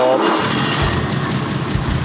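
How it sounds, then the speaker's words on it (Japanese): A BMW E9 3.0CS straight-six engine settles into a steady idle right after starting, a broadband rumble close by that runs throughout the short stretch. "エンジンかけますよ"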